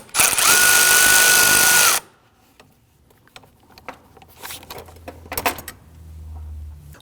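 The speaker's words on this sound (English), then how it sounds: "Now we're going to use a long extension and our 8mm socket." A power tool with an 8mm socket on a long extension loosens a radiator cooling fan bolt on a 2009-2017 Volvo XC60, a loud steady whir lasting about two seconds, followed by quieter clicks and clatter of parts and tools.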